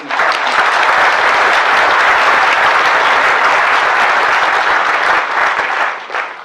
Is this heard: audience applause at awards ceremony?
yes